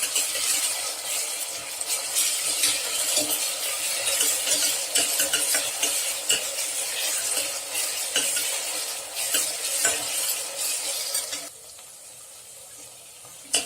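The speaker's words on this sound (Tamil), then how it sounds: "இது கொஞ்சம் வதங்கவும் இஞ்சி பூண்டு விழுது, அதனோட பச்சை வாசனை போட்டும் அது வரைக்கும் வதக்கும்." Ginger-garlic paste sautés in a pan for vegetable biryani, giving a steady, close sizzle with scraping stirs that drops to a quieter hiss near the end.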